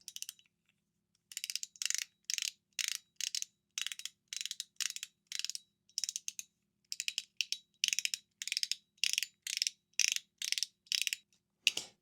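Tiny 2.78 mm stainless steel balls pop along a spring-loaded D2 track in a metal fidget toy, about twenty crisp, bright clicking bursts in a quick, steady rhythm, close up against near silence.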